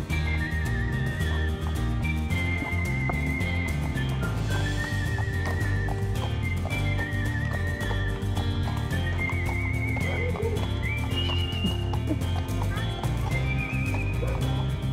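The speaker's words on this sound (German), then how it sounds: "Guck mal, ich bin auf dem Pferd." Horse being ridden at a horse farm on Tenerife, with repeated whinnying and neighing over steady hoof clip-clop, heard close and loud throughout against a busy background.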